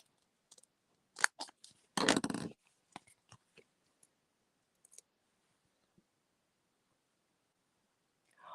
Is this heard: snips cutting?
yes